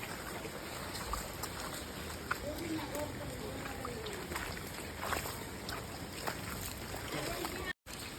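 Rain falling on a muddy road during a wet wait for transport, a constant close hiss of drops with scattered patters, steady throughout and briefly cut near the end.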